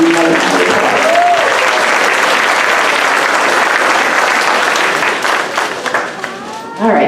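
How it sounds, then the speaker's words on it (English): A crowd applauds loudly and continuously, the clapping thinning out near the end as a few voices cheer. "let's give these ladies and gentlemen another round of applause"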